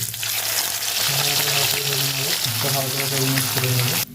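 A fish head marinated in salt and turmeric fries in hot oil in a kadai, giving a loud, continuous crackling sizzle up close, with a steady hum beneath and no speech.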